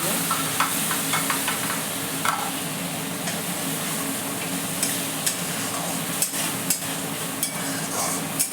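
Yogurt, poppy seed and cashew being stirred into a fish curry (doi katla, rohu/katla fish) in a hot pan, a steady close scraping stir over continuous sizzling with a few clicks of the spoon against the pan.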